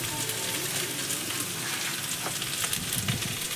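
Okra and potatoes frying in a pan in a home kitchen, a continuous bright sizzle and crackle with occasional stirring clinks, close and steady with no talking.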